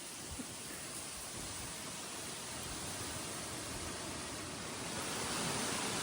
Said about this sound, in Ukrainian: такий вітер, такі хвилі